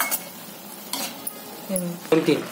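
Crushed peanut powder is stirred into onion-greens bhaji in a pan, with a few scraping strokes of a spatula against metal over a faint sizzle, close and moderately loud, with a voice briefly audible.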